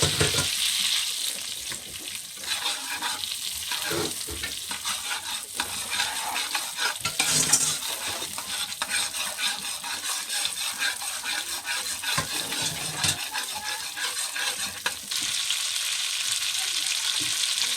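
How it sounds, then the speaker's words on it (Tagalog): Garlic and onion sauté in a pan while a utensil stirs them, making a constant close sizzle with repeated scraping and clinking of metal against the pan throughout. No one speaks. "Gisa na natin yung bawang sibuyas dyan"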